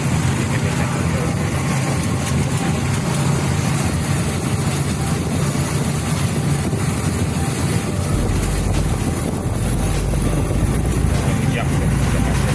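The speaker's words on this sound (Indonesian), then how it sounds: "Ini becak motor." A motorized rickshaw's small engine drones steadily with wind buffeting the microphone, a continuous rumble of riding through Banda Aceh city traffic, with voices talking over it.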